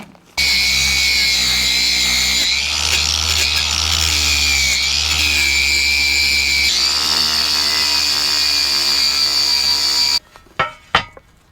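A power saw cuts through metal for a homemade sheep mesh roller, a loud steady whine running for about ten seconds before stopping, followed by a couple of short clanks.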